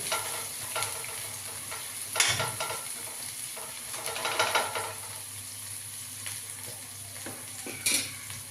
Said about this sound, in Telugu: ఇప్పుడు కందిగింజలు వేసుకోవటం